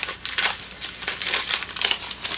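Crinkly wrapping torn and crumpled off a small mystery item from a book club subscription box, a close, continuous rustling and crackling with irregular bursts.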